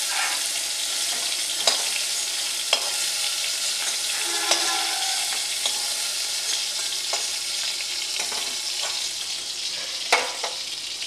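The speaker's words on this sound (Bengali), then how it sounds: "এবার দু তিন মিনিট নেড়ে আমি তুলে নেব, ভাজা হয়ে গেছে" Prawns fry over medium flame in a pan, giving a steady close sizzling hiss, broken by occasional sharp taps and scrapes of a spatula stirring them, with no talking.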